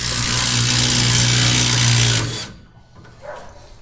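A power tool spins loose rear shock bolts on a Dodge pickup truck, a loud close whirring burst lasting about two seconds that cuts off abruptly, followed by quieter clinks.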